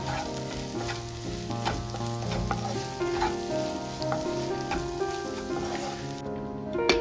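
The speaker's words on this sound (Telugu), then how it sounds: "ఇలా బాగా కలుపుకోండి" Mutton keema frying and being stirred in a pan after salt is added: continuous loud sizzling and crackling with repeated scraping stir strokes, and faint background music.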